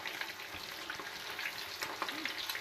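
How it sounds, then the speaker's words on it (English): Steak pieces stir-fry in a deep wok with a soft, steady sizzle. Light scraping and tossing sounds come and go throughout, fairly quiet and heard alone. "it's able to fry those pieces evenly and quickly"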